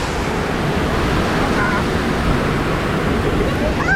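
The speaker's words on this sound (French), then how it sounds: "Oh la cascade!" Water from a waterfall on a theme park ride at Toverland pours in a steady, broadband rush. The sound holds constant, fairly loud and close.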